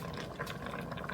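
Water poured from a cup into an Instant Pot holding camel meat stew, a steady close splashing and filling sound with no speech.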